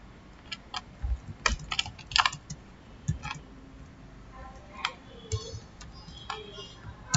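Keys clatter on a computer keyboard in irregular bursts of sharp clicks, fairly close and moderately loud, with no talking over them.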